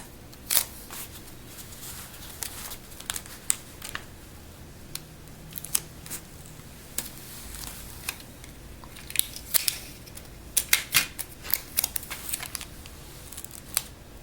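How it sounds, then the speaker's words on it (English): Tape is pulled and pressed onto paper booklet pages, giving a string of quiet, close, irregular crinkles, snips and taps that grow busier toward the end. "we're going to put more until the whole thing is taped together"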